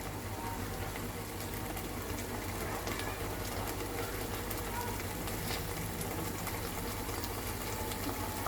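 Masala paste for mushroom curry frying in oil, a dense, steady bubbling sizzle that stays close and constant throughout with no break.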